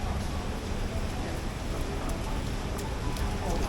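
Steady, dense hiss of rain pours down continuously at night in Taiwan, with faint scattered taps over the constant wash.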